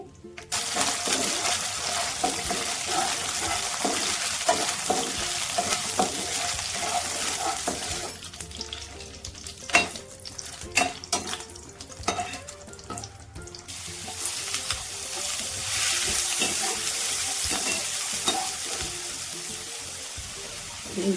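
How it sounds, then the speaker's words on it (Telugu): Dried red chillies, about twelve of them, fry in a pan, with a steady hiss and crackle of oil across the clip. A few clinks and scrapes come midway, and the sizzle grows broad and loud again toward the end. "ముందుగా మనం ఎండుమిర్చి వేయించుకుందామండి"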